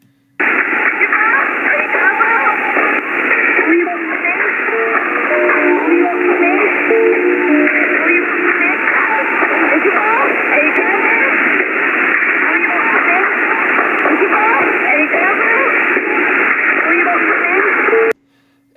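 A strange radio signal on the primary U.S. nuclear war frequency, said to come from Cuba, carries band-limited, crackly songs and voices through steady static for the whole stretch before cutting off abruptly.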